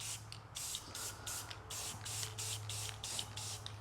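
Aerosol paint hisses out in a light dust coat, a steady spray broken into short rhythmic bursts of roughly a quarter second each. A low hum sits underneath, and no one speaks.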